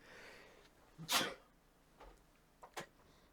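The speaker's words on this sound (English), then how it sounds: "I just had a sneeze out of nowhere." A single sudden, close sneeze bursts out over faint background hiss, followed by a couple of quieter breathy sniffs.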